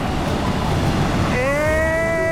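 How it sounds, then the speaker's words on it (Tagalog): Ocean surf at a surfing beach in Elyu: a steady, broadband wash of breaking waves and wind. Partway through, a sustained humming tone joins the roar. "Sarap mag-surf ngayon guys kasi sobra talaga yung alon"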